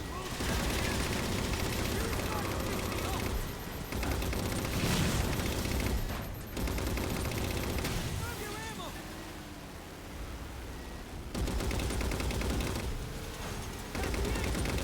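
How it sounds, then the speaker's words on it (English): Sustained gunfire in Halo 4 aimed at a Wraith vehicle, a dense, loud barrage of shots running almost without pause, with brief lulls, mixed with game noise and voices talking over it. "I need you to start shooting at the Wraith"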